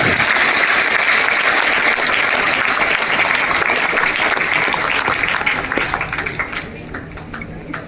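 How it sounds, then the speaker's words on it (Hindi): An audience at a Gandhi Jayanti event applauds loudly and steadily for several seconds, the dense clapping thinning and fading toward the end. "तालियां बजाने में जरा भी कंजूसी ना करें"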